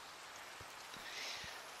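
Steady rainfall in Minecraft hisses softly as a faint, even wash of noise, with a few low thumps underneath.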